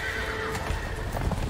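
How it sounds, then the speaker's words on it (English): A horse in the video game A Way Out neighs loudly and whinnies, with hooves clopping underneath, all heard up close over steady game ambience. "The horses are escaping"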